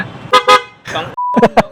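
A motorcycle horn gives a short steady toot, set between bursts of loud, close voices talking.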